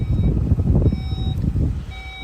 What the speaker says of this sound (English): Now this vehicle also has an electronic tailgate